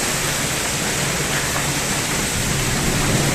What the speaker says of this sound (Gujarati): અડધી કલાકમાં તો જોરદાર વરસાદ આવી ગયો.